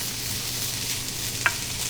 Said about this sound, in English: I'll keep stirring it to make sure it doesn't stick.